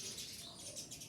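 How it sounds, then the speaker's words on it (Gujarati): A flock of sparrows gathered outside chirping together in soft, overlapping tweets, faint and distant for a brief moment. "ચકલીઓ બધી ભેગી થઈ છે બોલે છે."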